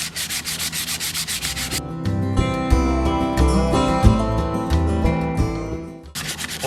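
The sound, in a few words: sanding old firearm wooden stock with sandpaper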